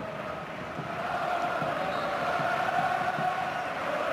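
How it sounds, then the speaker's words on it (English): A football stadium crowd at Barcelona vs Espanyol roars steadily around Coutinho's cameo debut, a broad, distant and unbroken wall of cheering. "This crowd absolutely reveling in this cameo debut by Coutinho."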